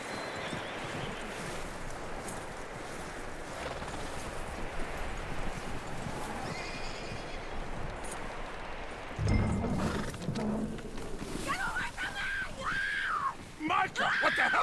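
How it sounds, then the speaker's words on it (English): Hooves clip-clop steadily through a noisy outdoor scene in the video game Red Dead Redemption 2, with a brief horse snort or whinny and voices near the end. "That looks like a decent horse."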